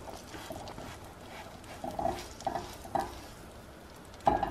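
Butter sizzles softly in a small frying pan, a low, steady hiss broken by a few light pops and crackles, with no talking.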